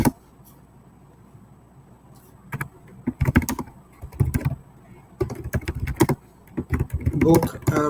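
Bursts of computer keyboard typing while entering text in an online email campaign editor, clustered clicks in uneven runs and pauses, close and moderately loud, with faint background sound between bursts.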